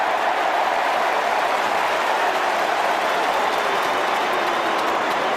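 A football stadium crowd at Football Park, Port versus Carlton, roars in a sustained, dense wall of cheering and applause that holds steady and loud throughout.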